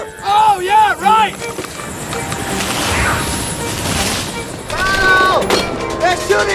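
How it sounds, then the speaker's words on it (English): Gunfire and chaos in a Black Hawk Down war film battle scene, bursts of shots and crashes under shouting voices, loud and close with sirens or whines rising in places. "They're shooting at us!"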